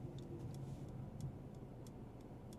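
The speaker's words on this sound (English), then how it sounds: "Turn signal sound now." Turn signal in a 2024 Mercedes-AMG CLA35 ticking softly and steadily inside the cabin, about three light taps per second over a low, constant engine and road hum.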